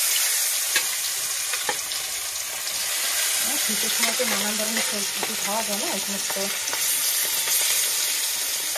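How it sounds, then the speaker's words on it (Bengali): Fish coated in turmeric and salt fries in hot oil, giving a steady crackling sizzle all the way through while someone talks over it. "মাছটা ভাজা দিয়ে দিচ্ছি।"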